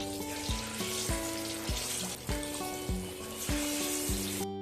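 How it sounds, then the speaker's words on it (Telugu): Palm fruit garelu, fried dough rings, bubble in oil heated on a high flame, a close, continuous crackling sizzle overlaid by regular low thumping beats that repeat roughly every half second. "హీట్ ఎక్కాక గారెలు వేసి అలా వదిలేయండి."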